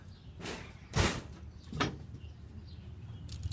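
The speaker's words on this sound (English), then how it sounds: "Hold on, I'm gonna close the door." A door being closed indoors: a few dull knocks and bumps, with one louder thud near the middle, then quiet room tone.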